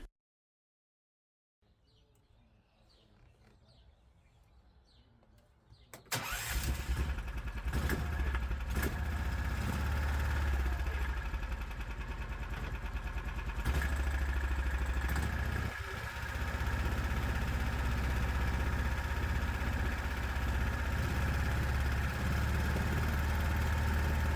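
Predator 420 small engine swapped into a Hisun Strike 4x4 buggy with camshaft and exhaust modifications, faint sounds before it fires abruptly, then a loud steady idle with slight surging, close by.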